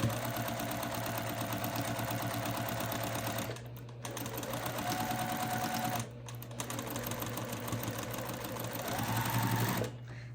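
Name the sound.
sewing machine stitching fabric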